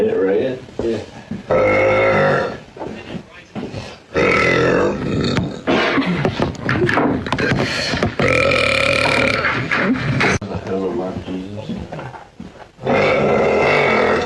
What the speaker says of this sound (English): Excuse me. Burping.